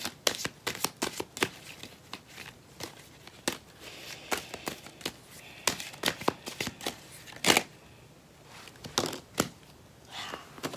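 Cards being shuffled by hand during a tarot-style reading, a close, steady series of sharp riffling snaps and flicks spread across the whole stretch, with no talk over them.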